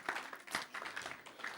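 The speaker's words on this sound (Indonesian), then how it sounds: "kasih tepuk tangan" Church congregation gives a round of applause honoring the older generation, a soft, brief patter of clapping from the crowd with faint voices mixed in.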